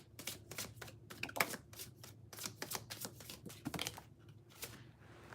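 Tarot cards are shuffled by hand close by, producing quiet, quick riffling flicks and soft slaps in an irregular run of brief bursts.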